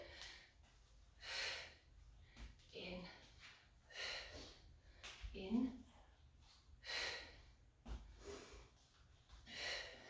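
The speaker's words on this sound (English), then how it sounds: "let's breathe in" Breaths drawn during a Pilates exercise on a thin mat, heard as several audible inhales and exhales spaced across the clip with some breathy gasps, close and fairly quiet, with no talking.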